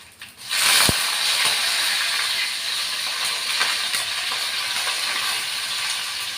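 Urad dal, cumin and a dried red chilli sizzle in hot oil as a tempering for a cucumber, drumstick and tomato curry. A sharp onset leads into a loud, steady hiss of frying that continues without pause.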